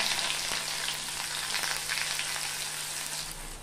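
Whole cumin and chopped onion fry in hot mustard oil in a kadai, giving a steady, even sizzle and crackle at close range with no voices.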